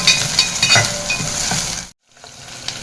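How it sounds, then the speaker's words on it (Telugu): Chopped green chillies frying in hot oil in a pan for a Telugu colocasia-leaf dish, a loud close crackling sizzle with stirring scrapes that cuts out abruptly before faintly resuming. "కొంచెం వేడవగానే దాంట్లోకి మనం కట్ చేసి పెట్టుకున్న మిర్చి యాడ్ చేసుకుంటున్నాము"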